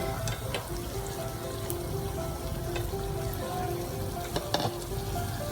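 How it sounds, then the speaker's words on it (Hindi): Lauki (bottle gourd) koftas deep frying in oil over a low to medium flame, a steady close bubbling sizzle with a few sharp pops and light crackles, no voices. "देखिए हमारे कोफ्ते बहुत अच्छे से फ्राई हो रहे हैं"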